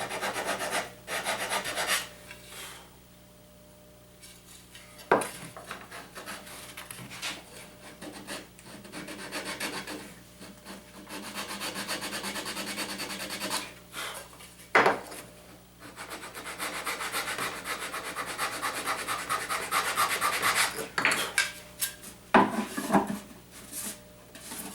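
Wood rubbed back and forth against a guitar neck while setting its plane: steady close scraping strokes, with a couple of brief pauses and sharp knocks between passes.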